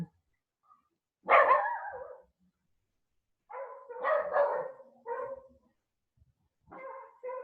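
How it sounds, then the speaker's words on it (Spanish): A few dogs bark in short, separated bursts at moderate distance, with quiet pauses between each round of barking. "disfruten escuchando los perros del vecindario"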